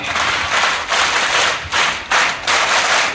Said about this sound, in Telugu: మనం నేర్చుకున్న క్లాప్స్ ఒక్కొక్కటి కొడుతూ ఉంటే